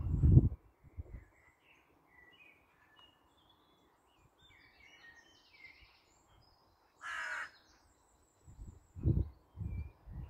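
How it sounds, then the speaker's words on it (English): A single loud crow caw rings out amid quiet background, with scattered faint bird calls and some low bumps at the start and end, in a tree where crows and magpies are fighting over territory. "Right, so we've got two crows up here."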